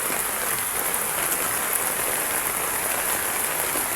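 Steady rain pours over a pumpkin field, a dense, even hiss of drops on leaves and soil that holds without a break, with no other sound over it.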